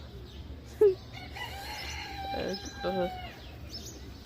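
A chicken crows in a drawn-out, wavering call amid farmyard noise, with a brief sharp squawk just before it.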